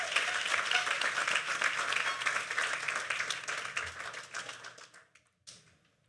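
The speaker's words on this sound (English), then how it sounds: "Give them a round of applause, please, if you can." A graduation ceremony audience claps steadily in a dense, even burst of applause that holds for several seconds and then quickly dies away to near silence.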